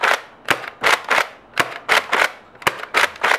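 A Nerf Rebelle Rapid Glow toy blaster rapid-fired with foam darts, each prime-and-fire pair giving a loud close clack and thump in a quick repeating rhythm, without speech.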